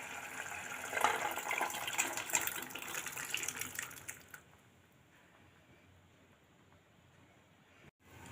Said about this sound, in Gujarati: આપણે કઠોળ બાફા છે તે પાણી પણ તેની સાથે જ નાખી દઈશું.